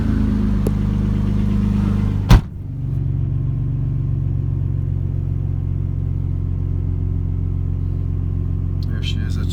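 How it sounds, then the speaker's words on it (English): A 2010 Rossion Q1 sits at idle with a deep, steady engine rumble close by; a sharp click or thump interrupts briefly early on, then the even idle continues to the end. "She idles perfectly. Runs beautifully."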